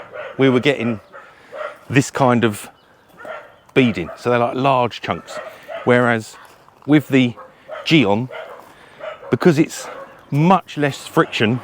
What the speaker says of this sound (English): Apologies about the dogs.